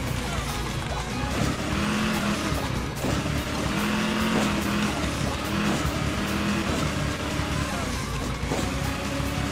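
Sport car from the Hill Climb Racing 2 video game, its engine droning steadily and loudly throughout with a few rising pitch shifts, under continuous game sound.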